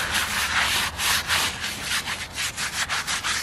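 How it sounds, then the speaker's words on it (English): A stiff brush scrubs a stone headstone coated with D2 cleaner, making steady, rhythmic rasping strokes that repeat close by and fairly loud, with no talking. "by scrubbing it you'll get all the stuff that worked loose and dried back on there"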